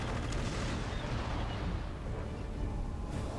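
Conker: Live and Reloaded gunfire: a steady, dense rumble of continuous shooting and booms at moderate level, with one sharp crack near the end.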